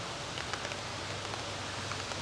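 Steady rain falls in a cemetery, a continuous soft hiss with faint scattered drop ticks, moderately distant and even throughout with no voices.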